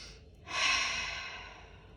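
A single deep breath during a breathing exercise: a quiet pause, then a strong airy exhale that swells and slowly fades, close to the microphone with no talking.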